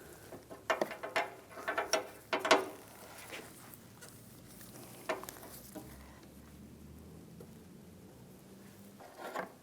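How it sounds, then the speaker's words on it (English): An 8mm wrench loosens the antenna on a 2007-2013 Chevrolet Silverado: quick close metallic clicks and scrapes cluster in the first few seconds, then near silence with only a couple of isolated faint ticks. "Take an 8mm wrench, and we're going to loosen up the antenna"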